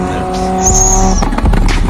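A car drives with its tires squealing in a sharp screech lasting about half a second, followed by engine and road noise, set after a few tonal beeps at the start.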